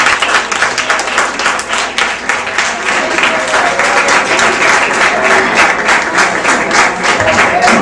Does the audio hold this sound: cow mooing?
no